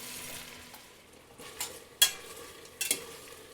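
Beef sirloin tips browning in a pan, a soft steady sizzle with occasional sharper crackles and light stirring scrapes, close and fairly quiet with no talking.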